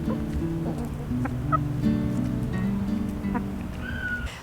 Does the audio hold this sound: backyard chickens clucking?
yes